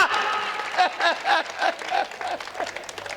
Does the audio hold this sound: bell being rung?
no